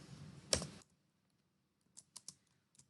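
A few quiet keystrokes tap on a computer keyboard while text is typed for an Android text-to-speech app, one sharper click early on and then a short, sparse run of light taps.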